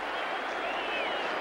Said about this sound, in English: And listen to the cheer from the crowd